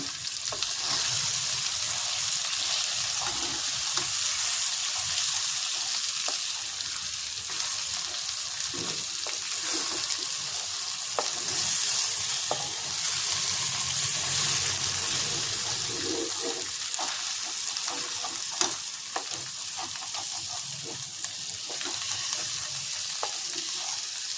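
Sattu flour frying in a pan with mutton masala for home-style Bihari and Bengali mutton gives a continuous close sizzle with occasional stirring scrapes, steady throughout and with no talk.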